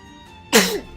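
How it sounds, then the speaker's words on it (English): One sharp, loud sneeze bursts out close by, alone against a quiet background. "You are so sneezy today."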